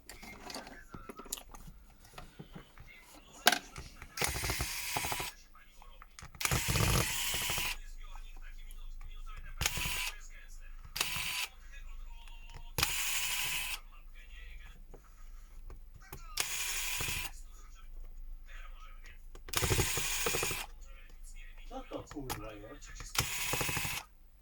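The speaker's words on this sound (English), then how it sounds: "we need to unscrew all the screws here" Small screws being backed out of the rear housing of an LG K11 smartphone during a battery replacement, heard as soft, close clicking and ratcheting bursts spaced irregularly through the clip, with quiet room noise between them.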